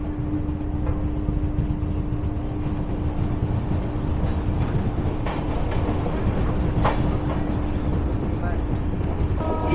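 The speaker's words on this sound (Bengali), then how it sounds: "রানীগঞ্জ থেকে ছেড়ে বেরোচ্ছে ট্রেন।" Indian Railways 13151 Jammu Tawi Express pulling out of Raniganj station, a steady continuous rumble with a faint sustained hum and scattered rattles and clicks of the coaches, heard from inside the train and lasting throughout.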